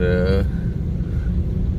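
Heavy street traffic in the main bazaar of Lala Musa, a steady roar of road vehicles with a brief tonal engine or horn at the start, heard under someone talking.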